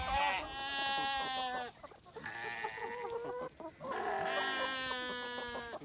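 Farmyard chickens cluck and squawk near a hay bale in the sheep pen, their calls close and fairly loud in repeated bursts with brief pauses between.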